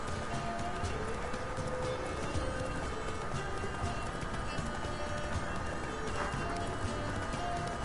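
Horse hooves pound steadily at a gallop in The Witcher 3, a continuous dull rhythmic clatter under a dense, noisy game soundscape.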